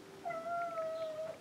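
A single drawn-out meow from a house cat, clear but fairly quiet indoors, with no one talking over it.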